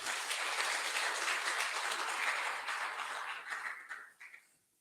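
An audience at a men's conference claps together, a dense, sustained round of applause that thins out and fades over the last second.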